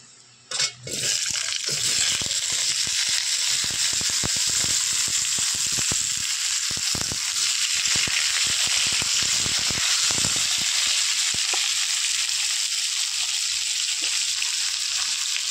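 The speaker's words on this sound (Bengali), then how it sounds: "এবার আমি কড়াইতে আলু দিয়ে দেব।" Potatoes frying in hot oil in a wok, a loud steady sizzle that starts with a sharp burst as they go in and then holds at an even hiss throughout, with occasional clinks and stirring scrapes.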